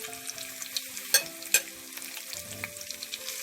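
Seasoned corned beef stir-frying in a hot pot for a Jamaican breakfast, sizzling and crackling up close, with two sharp metallic utensil knocks and light stirring scrapes throughout.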